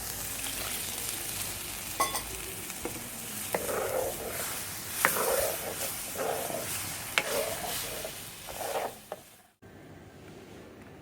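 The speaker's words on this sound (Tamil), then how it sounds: "இது கூட வந்து குழம்புக்கு தேவையான அளவு தண்ணி ஊற்றிக்கலாம்." Pomfret fish curry simmers and sizzles in a pot on a stone stove as water is poured in, with a continuous bubbling hiss and a few sharp clinks and scrapes. The sound cuts off abruptly near the end.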